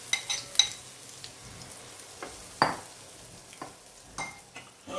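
Ragi vegetable handvo batter with sesame seeds and asafoetida frying in a pan, giving soft sizzling with a few sharp crackles and light clinks of the pan, no talk.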